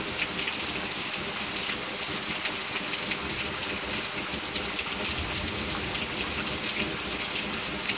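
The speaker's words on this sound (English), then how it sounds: "We have gotten so much rain lately." Steady rain falls at night, a dense continuous hiss of drops on surfaces, even and unbroken for eight seconds with no voices.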